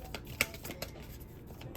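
A deck of tarot cards being shuffled, with quick papery riffles and soft clicks in short bursts, close and fairly quiet.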